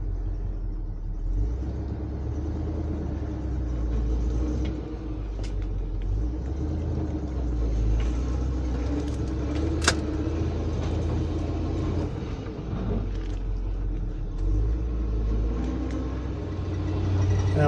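Old truck with a PTO winch pulling away in granny low gear, a steady low engine rumble that holds close and even for the whole stretch, with no talk.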